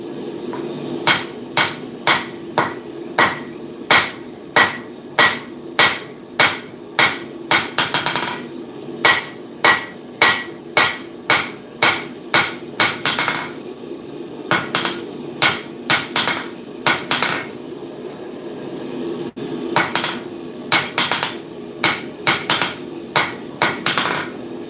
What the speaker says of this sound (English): This is still probably the best anvil I've ever forged on.